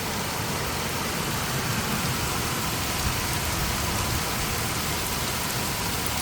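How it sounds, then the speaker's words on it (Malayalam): Heavy rain pours down steadily on a Thursday morning in the UAE, a dense, continuous rushing hiss of water on surfaces with no breaks and no voices. "നല്ല മഴ കൂടി കൂടി വരികയല്ലേ."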